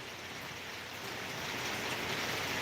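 Heavy rain pours at the Thirukovilur bus station during a thunderstorm, a dense, even roar of rainfall that swells slightly louder partway through, with no voices.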